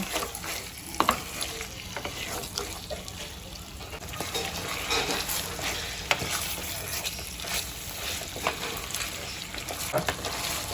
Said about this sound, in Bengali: এভাবে আমি চিকেনটাকে 10 মিনিট ভেজে নেব।